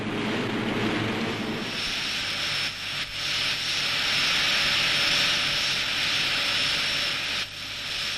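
A military hovercraft engine runs during exercises in Norway, a continuous loud turbine-like roar with a high whine, steady throughout with a few brief dips in level.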